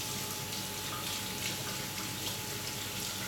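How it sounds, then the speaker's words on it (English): Tap water runs steadily into a sink while hands are washed beneath it, a continuous close hiss with no breaks and no talk. "I'm gonna just wash my hand"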